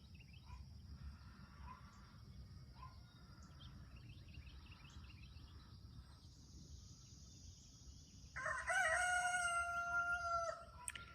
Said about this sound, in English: Somebody else's rooster.